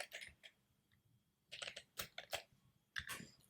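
C code is typed on a computer keyboard in quick bursts of clicky keystrokes separated by short pauses, close and quiet.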